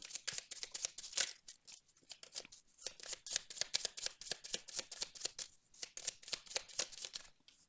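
Tarot cards being shuffled and drawn from a deck, a quick run of soft, papery flicks and riffles repeating steadily throughout at close range, with no talking.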